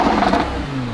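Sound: sports car engine revving after start in Corsa mode

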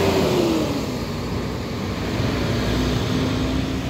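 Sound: intercity bus arriving at terminal

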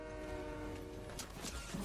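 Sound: train in the video game Fortnite

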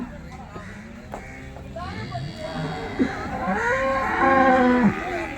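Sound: cow mooing at cattle market

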